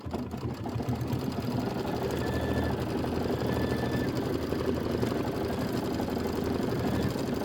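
A home embroidery machine sews a quilting stitch in sterling gray thread on a plaid pumpkin quilt block, with a steady, continuous mechanical whir and rapid needle chatter running close and even throughout, with no voices.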